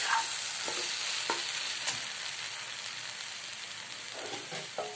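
Tomatoes fry in a pan with a steady soft sizzle while a spoon stirs them, giving a few light scraping and tapping strokes against the pan, close and alone without talk.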